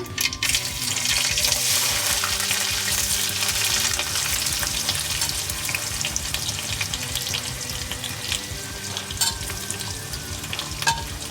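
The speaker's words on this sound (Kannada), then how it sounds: "ಚೆನ್ನಾಗಿ ಒಂದು 5 ನಿಮಿಷ ರೆಡ್ ಕಲರ್ ಆಗೋ ತನಕ, ಗೋಲ್ಡನ್ ಬ್ರೌನ್ ಬರೋ ತನಕ ಫ್ರೈ ಮಾಡ್ಕೊಳ್ಳೋಣ." Sliced onion, garlic, dried and green chillies and curry leaves sizzle and crackle steadily in hot oil for a ripe mango gojju tempering, with occasional stirring scrapes and clinks of a spoon against the pan, close and continuous.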